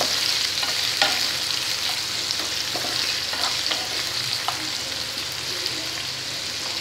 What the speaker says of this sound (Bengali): মুলোটাকে একটু ভালোভাবে ফ্রাই করে নেব